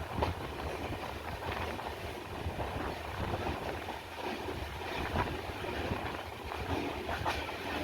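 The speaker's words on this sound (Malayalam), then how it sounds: "അങ്ങനെ മൺറോത്തുരുത്ത് റെയിൽവേ സ്റ്റേഷനും നമ്മുടെ കൊച്ചുവേളി മൈസൂർ എക്സ്പ്രസ് സ്കിപ്പ് ചെയ്യുകയാണ്" The Kochuveli Mysore Express runs through Munroe Island station without stopping, heard as a steady, loud rolling rumble with rhythmic wheel clatter and rattling throughout.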